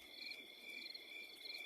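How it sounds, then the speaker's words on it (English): Crickets chirping at night in a steady, high, continuous trill, moderately faint and alone without voices. "only the crickets answered him"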